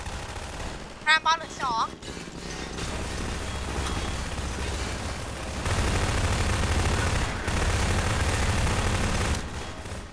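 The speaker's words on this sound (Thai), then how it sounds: "ไอ้ตัวนี้ปืนนี้ไม่ค่อยแรงว่ะไม่ค่อยชอบเลยมันยิงไม่ตาย" Gunfire from a weapon in Garry's Mod, dense sustained bursts of shots roaring continuously at close range, with a player's voice speaking briefly over the start.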